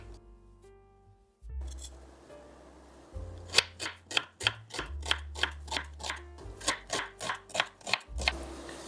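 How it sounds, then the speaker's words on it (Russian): A knife slicing two small red onions into half rings on a cutting board, a rapid series of about a dozen crisp, close chopping strokes in steady rhythm after some quiet handling noises. "2 небольшие красные луковицы режу полукольцами."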